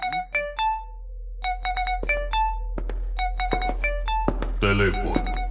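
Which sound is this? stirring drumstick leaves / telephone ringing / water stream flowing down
telephone ringing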